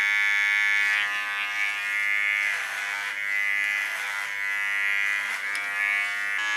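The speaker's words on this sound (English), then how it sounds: "This is, by the way, the latest clipper of T.K.S." A T.K.S. electric hair clipper runs in a steady, close buzzing drone with slight wavering in pitch as it moves, with no talking over it.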